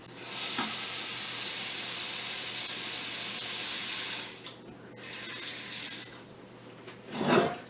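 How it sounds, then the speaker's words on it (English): Water pours steadily from a tap into an Instant Pot over field peas for several seconds, then stops and runs again briefly, with a clatter at the end. "cover them with water."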